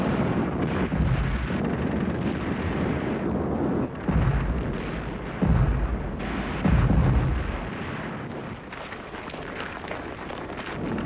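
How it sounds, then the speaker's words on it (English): Artillery barrage of guns, mortars and rocket launchers firing on the Berlin Chancellery, a continuous rumbling roar with repeated heavy booms and wind-buffeted noise. "every gun, mortar and rocket launcher in Berlin opened fire on the Chancellery and the last pockets of German resistance"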